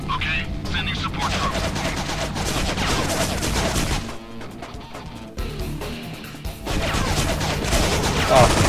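Turret gunfire in the game Infernal, steady rattling bursts that run almost continuously, dip briefly in the middle and resume, loud and close, with a voice speaking over the shooting.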